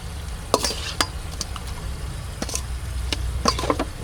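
Fish mixed with ginger, turmeric, garlic and pimento is stirred outdoors in a garden, producing close, quick scraping and sloshing strokes in uneven bursts over a low background rumble.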